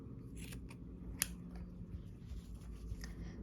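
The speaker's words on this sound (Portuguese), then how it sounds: "vou cortar aqui" Scissors cutting thick knitting yarn for a rug, a single sharp close snip standing out over quiet room hiss with a few softer handling clicks around it.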